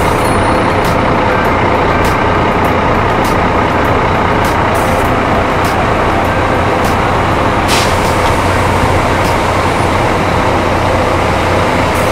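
Loud, steady engine rumble from a large Armada Indah fleet bus maneuvering among other buses, with faint intermittent reversing beeps and hiss over a dense, constant roadway drone.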